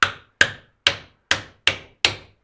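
Six sharp metallic strikes of a small hammer on a blacksmith's anvil, evenly spaced about every half second, each ringing briefly and fading, loud and close with no talk, during hand-forging of an axe head.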